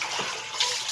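Steady gushing water runs continuously, like a tap filling a basin or tub, close by and fairly loud, with a brief splash partway through.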